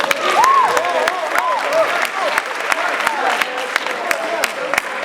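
Conference audience at a finance event claps and applauds, a broad wash of handclaps with some sharp individual claps standing out, while a voice carries on beneath it.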